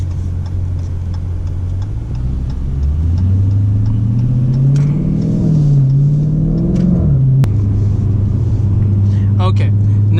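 A Dodge Challenger with an automatic transmission set to track mode accelerates from a steady low engine drone, revving up through rising pitch, dipping on a shift, then settling into a steady hum; someone talks over it.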